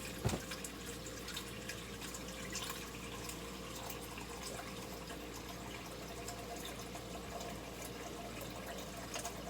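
Water running steadily from a tap into a sink during hand washing, a faint, continuous indoor trickle with a small clunk at the start and no talking.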